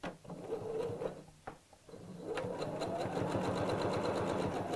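A sewing machine runs steadily, stitching a fabric seam with a quarter-inch allowance around the curve of a Valentine heart bag, its rapid mechanical chatter continuous and close after a brief pause near the start.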